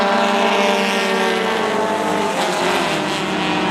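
Race cars roaring around the track at a short-track motorsport race, a dense, loud layered engine drone with shifting pitches as several cars pass close together.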